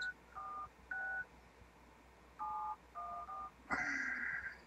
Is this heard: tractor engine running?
no